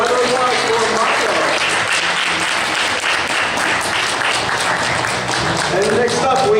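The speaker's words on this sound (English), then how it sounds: "And another round of applause for Mako." A crowd at a costume contest applauds steadily and loudly, dense clapping sustained throughout with a few cheers and voices mixed in.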